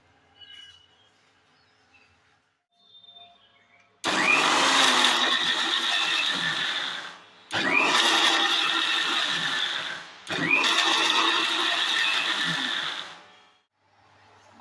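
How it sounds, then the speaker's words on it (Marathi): A mixer grinder pulverises sautéed onion, tomato, green chili and dry coconut in three loud whirring bursts of about three seconds each. Short pauses separate the bursts, and quiet kitchen sounds come before them. "कांदा टोमॅटो मिरची आणि सुकं खोबरं असं हे मी बाजून घेतलेलं आता मिक्सरच्या भांड्यात घालून घेतलेलं आहे आता आपण मिक्सर लावायचा आहे"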